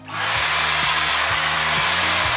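A hair dryer blows steadily on a man's hair during styling, a loud, close, continuous whooshing roar with a low motor hum that wavers rhythmically as the hair is shaken, heard with no talking.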